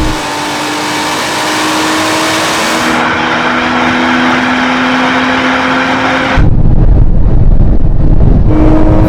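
A Nissan Z, Porsche GT4 RS, Toyota Supra and Lotus Emira accelerate hard in a drag race, with loud, sustained engine roar rising through the gears and a sharp gear change with a louder surge near the end.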